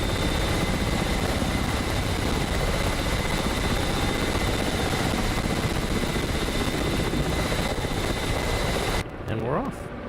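Ka-50 Black Shark attack helicopter in flight in the DCS combat flight simulator, a loud steady rotor and turbine roar filling the scene before cutting away abruptly near the end.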